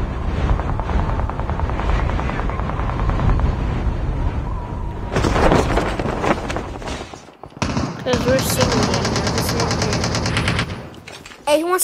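Gunfire in Call of Duty with bursts of machine-gun fire over a steady helicopter drone, loud and dense, broken by brief gaps.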